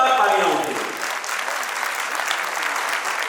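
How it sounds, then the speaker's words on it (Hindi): Audience at a Hindi poetry event bursts into strong applause, loudest at the start and settling into steady, dense clapping that continues throughout. "जोरदार तालियां उठे।"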